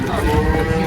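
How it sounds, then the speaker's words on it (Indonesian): Hornless Limousin cattle at a cattle market give a loud, deep, close moo that holds steadily for about a second. "Ini juga baru berdatangan nih sapi limusin"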